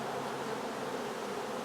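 A colony of honeybees in a hive with a Kona queen hums in a thick, even buzz, near and unbroken, with nobody talking.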